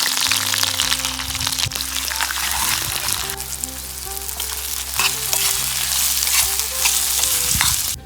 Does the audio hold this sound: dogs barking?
no